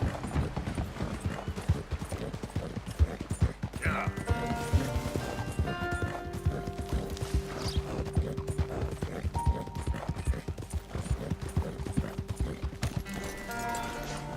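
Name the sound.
horse hooves in video game Red Dead Redemption 2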